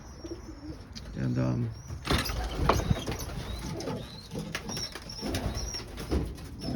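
Pigeons cooing in a loft, with soft repeated coos and scattered chirps around them, some wing flutter, and someone speaking over the birds.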